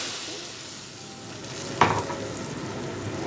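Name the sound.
oil sizzling in a wok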